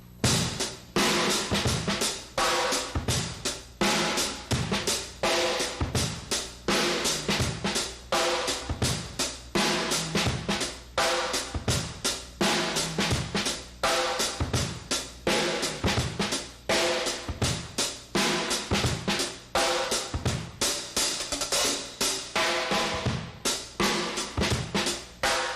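A funky drum groove plays alone with a tight, busy pattern of kick and snare hits sprinkled with quick, soft ghost notes and bright cymbal wash throughout.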